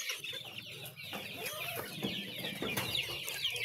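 Chickens cluck in a rural farmyard in the Philippine countryside, a dense chorus of many birds at close range with overlapping clucks, squawks and an occasional rooster, steady and continuous throughout.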